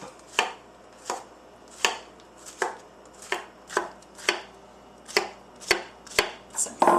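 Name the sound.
knife slicing vegetables on a cutting board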